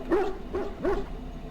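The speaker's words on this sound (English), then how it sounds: "Find the flower to save the puppy." A dog in the Dragon Age: Origins video game gives three short whimpering yips in a row, moderately loud over a low game background.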